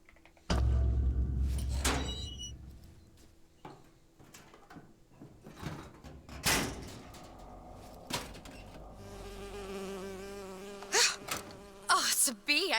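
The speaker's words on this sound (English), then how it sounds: "Oh, it's a bee." A bee buzzes in the video game BioShock Infinite, its insect drone weaving through a busy mix of thuds, moans and other game sounds.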